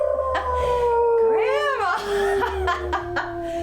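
A person's voice imitates a long, rising and falling howl at the moon. It is a single, loud, wavering cry in the middle, with talking and other voices before and after it.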